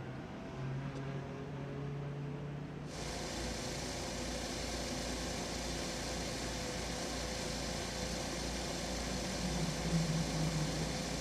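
IndyCar race car engines fire up on the grid at the Detroit Grand Prix, a sudden loud broadband roar cutting in after a quieter start and then holding steady as a dense, continuous idle-and-rev drone.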